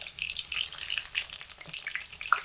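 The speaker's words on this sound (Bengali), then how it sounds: "এখানে বেগুন ভাজার সময় আমি সাদা তেল দিয়ে ভাজছি।" Eggplant pieces fry in white oil over medium heat, giving a soft continuous sizzle with scattered crackles and small spatters, close and fairly quiet.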